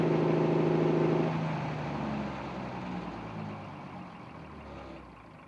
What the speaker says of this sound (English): you will hear how the motor will finally stutter and stop